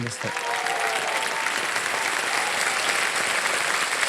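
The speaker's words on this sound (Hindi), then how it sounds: "यहाँ पर जनता ने ताली बजाई आपके लिए और सबने स्वागत किया और अभी भी बजाते जा रहे हैं" Studio audience at a KBC quiz-show taping applauds a contestant, a dense steady wash of clapping that carries on without pause from start to finish.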